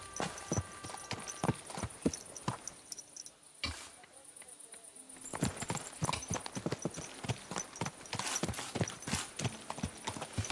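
Steady clip-clop of horse hooves in an even walking rhythm in the video game Kingdom Come: Deliverance II, close and clear, with a brief quieter pause midway before the hoofbeats resume.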